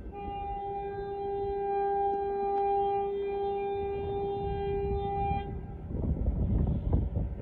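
Northbound Amtrak Texas Eagle 22 train at McNeil Road in McNeil, Texas, sounding a long, loud chord horn for several seconds, then rumbling closer as the horn stops.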